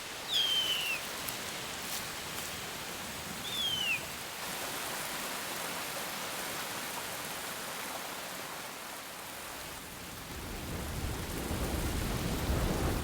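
Steady heavy rain pours down across the Amazon forest, a dense continuous hiss that swells louder toward the end, with a couple of faint high bird whistles early on.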